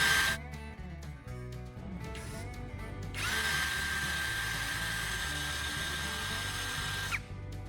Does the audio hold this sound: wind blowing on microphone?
no